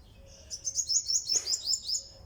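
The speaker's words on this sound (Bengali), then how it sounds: "পাখির ডাক কেচিমেচি" Several small birds chirping in a garden, a run of quick, bright, high tweets repeating in an even rhythm for about two seconds, fairly close and clear over a quiet background.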